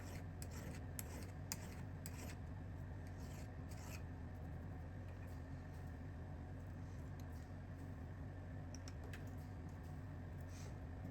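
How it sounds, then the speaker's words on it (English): Steady dry rasping of a hand file working metal bezel wire clamped in a miter vise, continuous strokes over a low background hum, close and moderately quiet. "So I just keep filing away until there is no more metal left to file on top of the miter vise."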